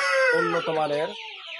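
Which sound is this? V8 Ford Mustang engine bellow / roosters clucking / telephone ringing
roosters clucking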